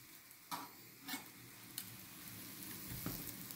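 Frying künefe in a pan sizzles softly and steadily while a spatula scrapes and taps around its edges in a few brief strokes, close and quiet.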